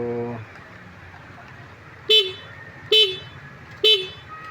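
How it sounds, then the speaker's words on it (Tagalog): Three short, loud honks from a Yamaha scooter horn, evenly spaced about a second apart, close by, after a brief bit of speech. "lakas yung busina."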